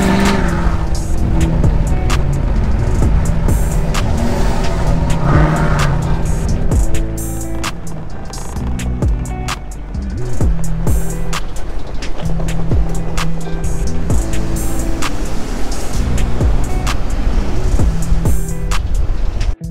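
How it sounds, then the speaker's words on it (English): A loud RAM 2500 pickup truck engine revs hard and repeatedly, roaring up and down with sharp bursts, close by and with no talking. "Truck sounds so sick."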